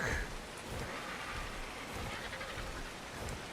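Steady rain hisses through a cloudy, dark scene on the Ragnarok map of Ark Survival Ascended, a soft continuous wash with no voices over it.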